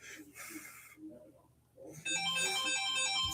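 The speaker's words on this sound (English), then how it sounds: "And there's a phone call, of course." A phone starts ringing with an incoming call, a loud electronic ringtone of steady repeating tones that comes in partway through, after a stretch of quiet talk.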